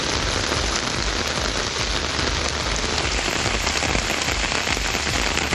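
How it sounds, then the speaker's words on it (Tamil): Heavy rain pours down steadily in a dense, unbroken hiss of drops striking surfaces. It is loud and constant from start to finish, with no voices. "சுமார் 1 மணி நேரத்திற்கு மேலாக கனமழை பெய்தது."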